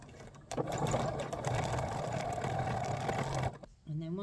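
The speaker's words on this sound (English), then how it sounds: "here we start. I'm going to be sewing in circles." Sewing machine free-motion stitching circles on scrap fabric: a continuous close mechanical whir lasting about three seconds, starting and stopping abruptly, with a brief voice after it stops.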